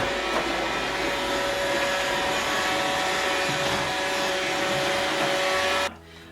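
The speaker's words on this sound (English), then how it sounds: "But then again, it's a vacuum." A Roomba robot vacuum cleaner runs loudly, its steady whirring motor and brush hum holding at an even level before cutting off abruptly near the end.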